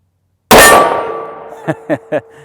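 A Smith and Wesson 640 revolver firing a 158 grain jacketed soft point round: one loud, sharp report with a ringing decay, followed by three quick metallic clinks.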